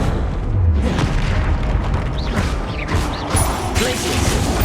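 Confringo fire spell blasting in the video game Hogwarts Legacy, a loud, dense roar of booming explosions and crashing impacts that fills the whole stretch, with brief whooshing effects layered on top.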